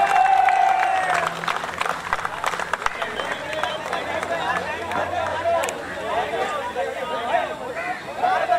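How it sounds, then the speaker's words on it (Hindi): A large crowd applauding honorees at a closing ceremony, sustained clapping mixed with crowd babble and a few cheers, with speech heard over it. "इनके लिए भरपूर तालियां होनी चाहिए"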